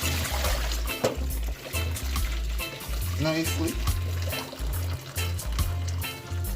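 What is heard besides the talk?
draining water off cooked lasagna pasta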